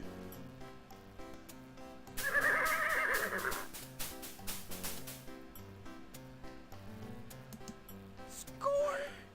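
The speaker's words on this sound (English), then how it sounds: "There's a horse right here" A horse whinnies in the Freddy Pharkas: Frontier Pharmacist adventure game, a loud, bright neigh rising over looping Western-style game music, followed by a shorter squeal near the end.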